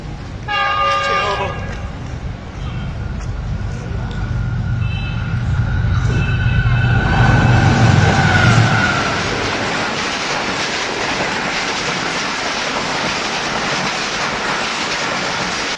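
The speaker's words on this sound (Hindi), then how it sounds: "ये वीडियो 16 डाउन कराची एक्सप्रेस की है, जो कानाकाचा फ्लाईओवर से पास हो रही है।" The 16 Down Karachi Express crosses the Kanakacha flyover in Pakistan, its horn blaring in loud sustained blasts at the start, then a steady heavy rumble and clatter of the wagons rolling past close by.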